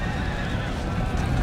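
Cavalry horses neigh and whinny in a battle in the strategy game Empire: Total War, with hooves clip-clopping through a steady, dense wash of loud battlefield din that runs unbroken throughout.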